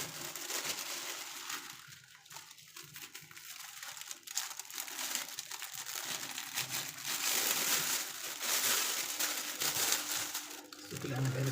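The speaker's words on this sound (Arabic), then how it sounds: "انا هحطه في كيس حراري" A plastic heat bag crinkles and rustles continuously while stuffed chicken wings are packed into it by hand, close and fairly loud, with irregular crunchy bursts and no clear talk.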